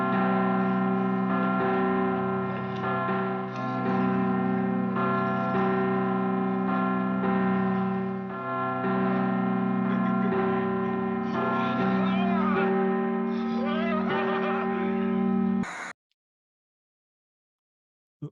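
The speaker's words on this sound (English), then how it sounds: "Ping, ping, ping, ping, went the bell" A bell sound effect rings steadily with sustained, overlapping tones for about fifteen seconds, then cuts off abruptly into silence.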